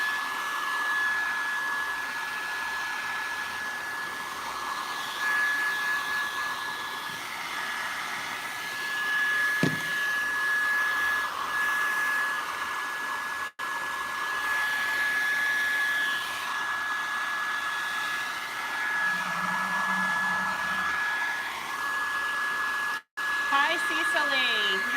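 A heat gun runs on its highest heat setting, drying paint on a vase in a continuous steady whine and rush of air that holds close and loud with only a couple of brief cut-outs.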